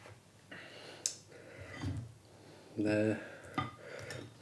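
Utensils scrape and clatter in a pan as chicken wings and sausages are stirred together in scorpion chilli sauce, with intermittent metallic knocks and scrapes close by.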